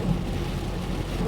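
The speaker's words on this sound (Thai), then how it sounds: "ฝนตกทั่วถึงนะครับ" Heavy rain pouring steadily over a rural community area during a tropical storm in Nang Rong, Thailand, a dense constant roar with deep low rumbling like thunder, loud and unbroken, with no talking.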